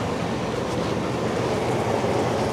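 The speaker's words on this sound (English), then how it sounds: "You hear that? It's the train." Passing train, a continuous loud rumbling roar with a rhythmic rolling texture, steady and close throughout with no speech.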